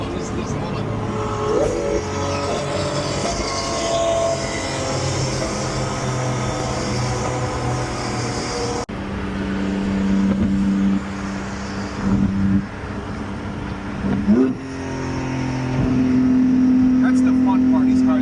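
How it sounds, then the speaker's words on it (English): Multimillion-dollar hypercars cruise down a highway, engines droning and swelling loudly with rising revs and shifts, wind and road roar throughout, voices speaking over parts of it. "That's the fun part, these cars just driving."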